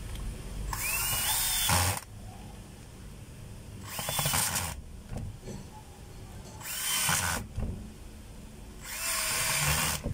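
A power drill drives screws during a repair of a DeWalt D25032 rotary hammer, running in four loud whirring bursts of about one to two seconds each with quieter gaps between them.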